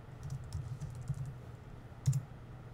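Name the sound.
typing on a computer keyboard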